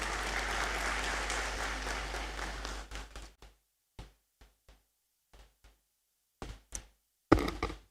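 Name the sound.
applause for the Registrar at a congregation ceremony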